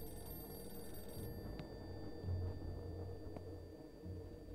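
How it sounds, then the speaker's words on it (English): Telephone ringing in a horror video game, faint and distant under a steady low hum of background noise, with a few soft clicks in between. "Where's that ring coming from?"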